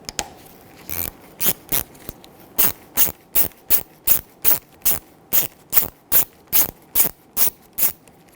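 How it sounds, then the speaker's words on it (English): A hand ratchet with a T25 Torx bit works out a brake master cylinder mounting bolt on a 2007-2017 Jeep Patriot, giving a steady run of about twenty crisp, close clicking strokes in an even rhythm, with no talking. "So we'll take the old mounting bolt out with the T25."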